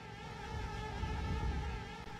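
Wasps buzzing in Conker's Bad Fur Day, a steady insect drone with a wavering pitch that holds fairly evenly and close throughout, with no talking.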